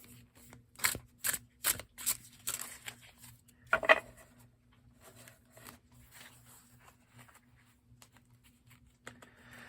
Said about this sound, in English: So let's go ahead and shuffle and pull a card.